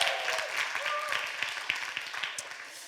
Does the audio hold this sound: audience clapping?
yes